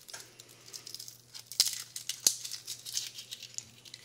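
Papery skin peeled off garlic cloves close up: soft dry crinkling and rustling with a couple of sharp little snaps, over a low steady hum and no talk.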